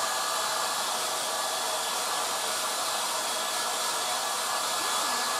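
A 1980s Black & Decker Stowaway travel hairdryer running on low heat, a steady close airy whir that holds at a constant level throughout.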